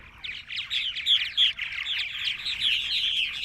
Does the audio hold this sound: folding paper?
no